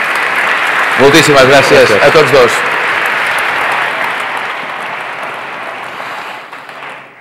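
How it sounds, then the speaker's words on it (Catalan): An audience at a 30th-anniversary event for overseas trade and investment offices breaks into loud, sustained applause. Someone speaks briefly over it near the start, and the clapping then fades slowly toward the end. "Jo m'agradaria que cobréssiu aquest aplaudiment"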